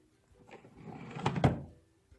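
A wooden-sounding desk drawer in a classroom slides open with a soft rumble, ending in two close thunks as it stops, with no voices.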